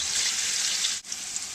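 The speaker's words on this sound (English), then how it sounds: "So now that this is sizzling away, I'm going to put in the figs." Figs sizzling in a pan of hot honey and vanilla give a steady, bright frying hiss, loud and close, with one brief dip in the middle before the sizzle comes back.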